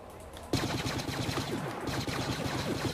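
Blaster weapon in Star Wars Battlefront firing rapid repeated shots, a fast steady burst of sharp bolts at moderate loudness continuing after a quiet start.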